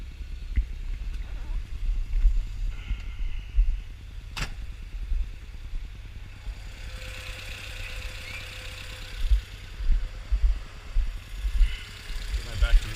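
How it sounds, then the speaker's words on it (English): A Volvo 1800's carbureted engine idles steadily with a low, even chug, close by with the hood open, while someone talks intermittently over it. "So, engine runs beautifully."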